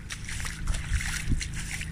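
Floodwater in Townsville runs and splashes in a steady, moderately loud sloshing rush, with a few heavier splashes breaking through.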